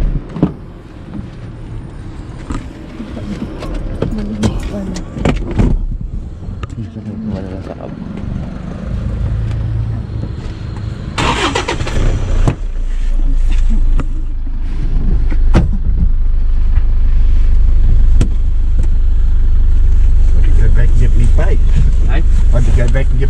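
A Toyota Hilux pickup truck drives along with a steady engine and road rumble that builds in the second half, while people talk over it and a brief burst of wind or rustle interrupts midway.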